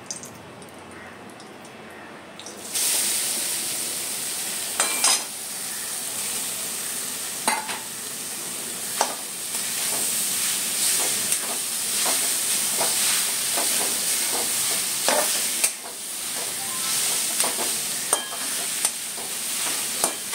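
Grated coconut roasts in ghee in a pan for ukadiche modak, starting quiet and then rising into a steady loud sizzle and hiss with frequent scraping stirs of a spatula.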